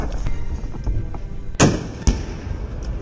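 Ammunition cooking off inside a burning Russian tank after a Javelin missile strike near Bakhmut: two sharp, loud blasts about half a second apart over a steady rumbling background, with fainter crackling pops before them.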